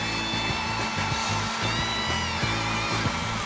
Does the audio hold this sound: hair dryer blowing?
yes